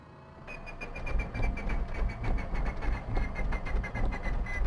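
The starter of a P-38 Lightning engine in a flight simulator cranks with a steady rhythmic whirring and a periodic high whine, pulsing evenly for several seconds without the engine catching.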